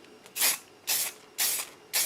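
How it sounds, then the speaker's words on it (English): Aerosol spray can laying a protective coat over a waterslide decal on a guitar, four short hissing bursts of even length separated by brief pauses, close and clear. "and then you spray it"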